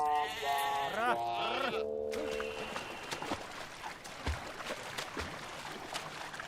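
A flock of sheep and goats bleats in a rural setting, several overlapping wavering cries close by at first, then fading into scattered movement and rustling with occasional thumps.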